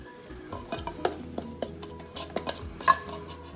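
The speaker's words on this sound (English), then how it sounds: "I like to use a spatula and get out all the goodness out of the can" A spatula scrapes cream-style corn out of a metal can into a pot, giving a series of close, irregular scraping knocks and clinks against the tin, with soft kitchen background between strokes.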